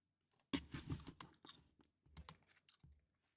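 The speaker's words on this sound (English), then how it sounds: "I'm just chewing on gum." Gum being chewed close to the mic during a gameplay session, giving irregular wet clicks and smacks in short bursts with pauses between them, with no talk.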